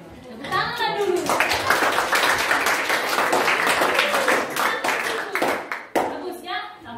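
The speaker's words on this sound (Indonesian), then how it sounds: "Tepuk tangan dulu." Classroom applause at a junior high school in Nainggolan, Samosir, for a group presentation: students clap steadily for several seconds while children's voices and an adult talk over and around the clapping.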